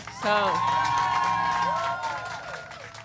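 An outdoor crowd standing in the rain breaks into cheering and whoops, a broad sustained roar that fades gradually, with a voice over it.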